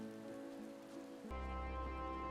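Rain falls in the video game Final Fantasy XIV: Endwalker as a soft, steady patter under a sustained tonal game soundscape, which grows slightly fuller and louder partway through. No one speaks.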